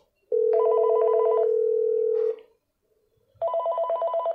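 Ringing tones from an IP phone placing a direct call to another IP phone without a PBX, a loud steady tone followed by a warbling ring, a pause, then the ring resuming, with no talk.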